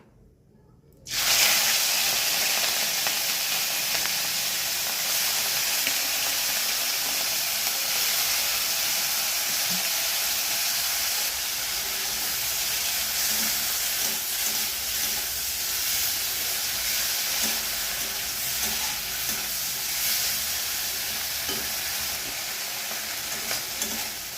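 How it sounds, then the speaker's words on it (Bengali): Prawns frying lightly in hot oil, a loud dense continuous sizzle and hiss that starts abruptly and holds steady close by for the whole stretch, no talking. "এবার আমি চিংড়ি মাছগুলো ভেজে নেব হালকা করে"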